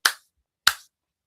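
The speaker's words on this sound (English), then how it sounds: "let me clap." Two sharp, separate hand claps about half a second apart, close and crisp, each dying away quickly into silence.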